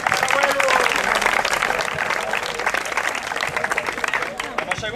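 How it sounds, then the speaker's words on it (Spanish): Loud applause from spectators for a third-place finisher at a 2015 promotional triathlon in Hinojosa, with crowd chatter underneath; the clapping is full at first and thins slightly toward the end. "Fuerte aplauso para Eduardo, tiene un gran mérito."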